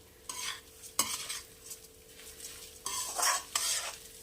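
A spoon stirring in a pan of ghee and butter, gentle sizzling between several scraping bursts, close and fairly quiet with no voices.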